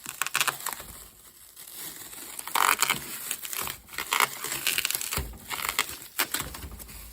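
Cardboard packaging and plastic wrap for a TWICE CandyBong Infinity light stick crinkle, crunch and tear up close, in bursts of rustling with short pauses and no talking.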